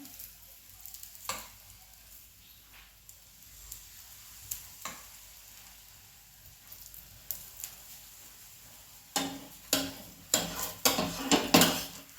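Besan flatbread frying in oil on a pan, with soft sizzling throughout that grows louder and crackly toward the end as more oil is poured in.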